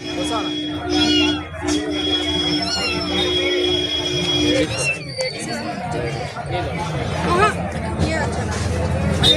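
A kitten meows several times in thin, high cries over a busy background of crowd chatter and voices at a Sunday street market in Erragadda, Hyderabad.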